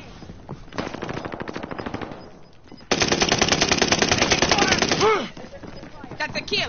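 Rapid automatic gunfire from a console first-person shooter played on PS4, with sustained bursts of fire, a brief lull, then a louder continuous stretch, close and dense, with game effects mixed in.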